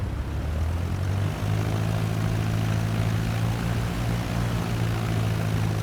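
Cessna 152 propeller engine running at full power before takeoff, a loud steady droning hum with a strong low harmonic tone that holds constant throughout, with no talking.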